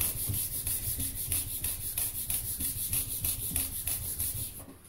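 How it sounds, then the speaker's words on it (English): A hand rubs briskly back and forth along a leather straight-razor strop, making a steady run of close, dry swishing strokes with no talking. "I'm going to warm that up by rubbing my hand on it."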